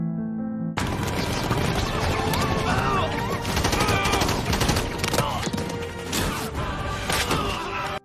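Movie battle scene gunfire, with robots and soldiers attacking, in dense bursts of rapid shots and crashes that fill the mix continuously, loud and chaotic.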